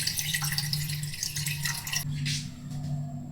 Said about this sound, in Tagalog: Maglagay na tayo ng tubig sa ating kawali mga idol.